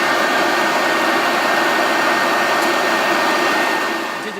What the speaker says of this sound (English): I went to switch off the vacuum cleaner